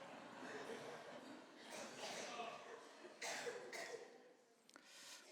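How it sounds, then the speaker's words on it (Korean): A church congregation coughs together during a Sunday worship service, many scattered coughs and throat-clearings overlapping in a fairly quiet, reverberant hall, with some murmuring and light chuckling among them. "우리 다 같이 기침하는 시간을 갖도록 하겠습니다"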